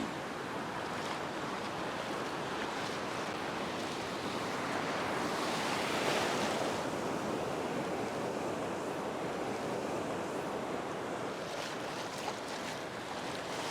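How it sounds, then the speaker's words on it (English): Surf washing steadily up a flat fishing beach in failing light, a continuous broad roar of waves with a surge swelling around the middle, mixed with wind buffeting the microphone and no voices. "On these flat beaches, you get really big surges"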